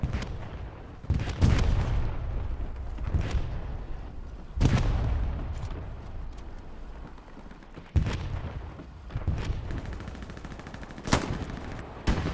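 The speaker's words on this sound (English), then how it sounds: "Artillery strike called in on the western side." An artillery strike in the World War II shooter Hell Let Loose: a series of loud, booming explosions and gunfire bursts lands at irregular intervals, each blast sharp and heavy before fading into a rumbling battlefield background.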